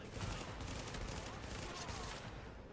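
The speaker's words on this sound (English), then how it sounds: "let's try this burst rifle MP5 that you guys know and love so much" An MP5 burst rifle firing in The Division, a loud, continuous rattle of rapid gunfire that fills the whole moment without letting up.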